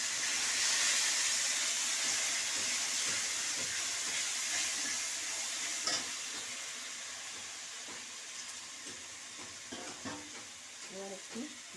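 Spice paste sizzles in hot oil in a pot for aloo potol curry, a steady close hiss that eases slightly over time while a utensil stirs through it with occasional soft clicks and knocks.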